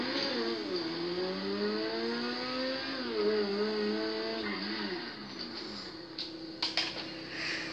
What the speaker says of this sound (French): Donc on dirait vraiment le bruit d'une Ferrari, hein.